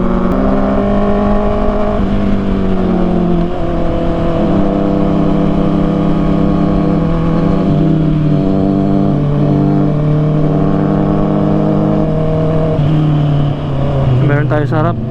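Honda CBR 650R motorcycle engine held in third gear, a loud, close, steady harmonic drone with small pitch swells that runs continuously for the whole stretch.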